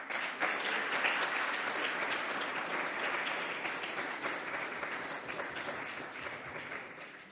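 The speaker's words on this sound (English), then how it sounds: "Again, Vilas, let's have another round of applause" Sustained audience applause at a live talk on Ramayana stories, a dense wash of many hands clapping at steady loudness that tapers slightly toward the end.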